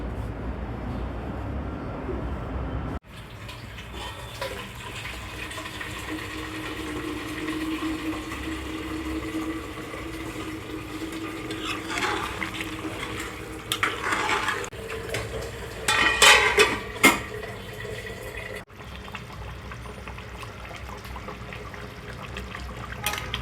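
Duck meat simmering in a pot on the stove for a bhuna dish, a steady low bubbling and hiss with occasional soft clinks of a spoon or utensil against the pot, fairly close and without talk.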